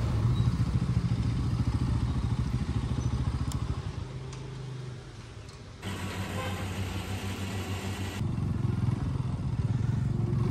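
A motorcycle engine idles steadily at a petrol pump on a North Sikkim ride, a close, continuous rumble that dips briefly midway with a faint high whine, then resumes.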